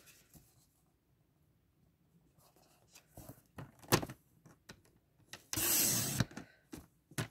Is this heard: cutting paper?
yes